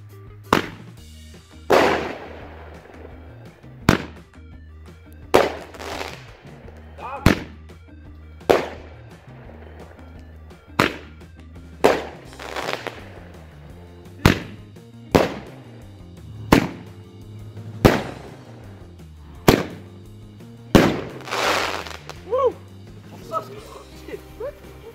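A small Danish bumperør firework battery fires sharp, loud bangs at irregular intervals, more than a dozen cracks over the span. Some are followed by crackling tails, and people talk between the shots.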